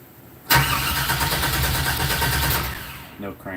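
A 1964 GMC truck engine starts for the first time, a loud close catch that roars into a rough, steady run for about two seconds before it cuts out, with voices talking briefly afterward.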